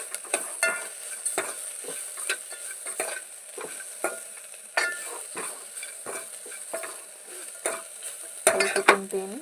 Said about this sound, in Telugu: మొత్తం కర్రీ అంతా మిక్స్ అయ్యేటట్టు కలుపుకుందాం.